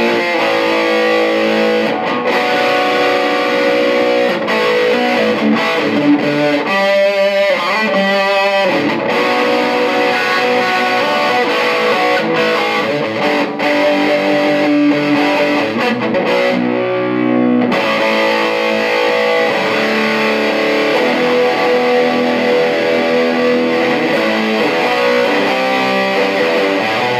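Heavily distorted electric guitar through a Mad Professor or Wampler Pinnacle distortion pedal plays sustained chords with a wash of reverb, loud and continuous, with a short gap of quieter ringing midway.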